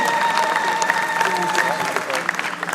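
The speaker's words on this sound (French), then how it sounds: "uma forte salva de palmas" Sustained applause from an audience at an honours ceremony for Sam Mangwana, steady and fairly loud throughout, with a tonal hum and crowd noise mixed in.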